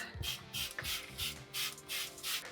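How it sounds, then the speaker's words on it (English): Rhythmic bursts of hissing spray alternating with rubbing and wiping strokes on a hard surface, close and fairly quiet, with no talking. "we spray and we wipe"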